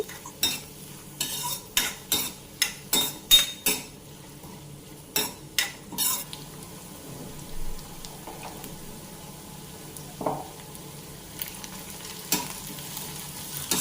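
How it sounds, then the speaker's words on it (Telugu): Sliced onion and salt stirred in a deep frying pan (kadai), a quick series of rhythmic spatula scrapes on the metal, then slower occasional stirs over a soft frying sizzle, close up with no talking. "దాంట్లో ఒక ఆనియన్ అయితే సన్నగా కట్ చేసుకొని వేసుకొని సో ఆనియన్కి సరిపడా సాల్ట్ కూడా వేసుకొని బాగా మిక్స్ చేసుకోండి"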